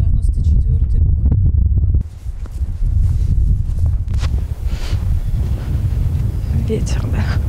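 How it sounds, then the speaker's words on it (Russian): Wind blowing outdoors at a rural cemetery, a steady low rumbling buffet across the microphone, with footsteps and rustling, and people talking over it. "Ветер, да."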